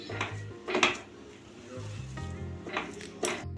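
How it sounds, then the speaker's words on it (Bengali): Palm fruit dough for taal chushi pitha being stirred in a pan over a low-medium gas flame, with a few scraping clinks of a spoon against metal over a quiet background. "আমি এখন অনবরত এইভাবে নেড়ে চেড়ে একটা ডোয়ের মতো তৈরি করে নেব"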